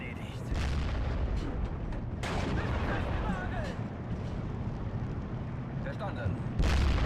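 German 88 gun firing rounds at half-tracks in the Steel Division WWII strategy game: heavy, rumbling cannon booms and blasts roll over a dense battlefield din, with a sharper, louder shot near the end.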